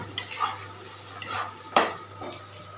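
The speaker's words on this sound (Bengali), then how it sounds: "এবার এটা কষানো হবে মশলাগুলোকে একটু কষানো হোক" A spoon stirs spices sautéing in a pan for chana dal. A few scraping strokes of the spoon come over a soft, low sizzle, close by and fairly quiet.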